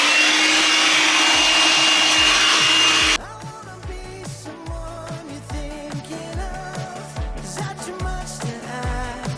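A Shark vacuum cleaner roars loudly in a utility room for about three seconds, then cuts off abruptly as music takes over for the rest of the clip.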